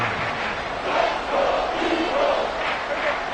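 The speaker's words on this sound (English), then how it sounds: "This crowd doing all they can." A virtual stadium crowd in the Madden 24 football game cheering and chanting near the goal line, a broad swelling roar with rhythmic surges of shouting.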